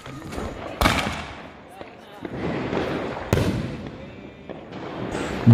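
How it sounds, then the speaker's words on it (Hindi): Diwali fireworks bursting outdoors, with several loud sharp blasts and crackling between them, while people talk and cheer nearby. "और सामने की तरफ देखिए दोस्तों क्या आतिशबाजी हो रही है भाई"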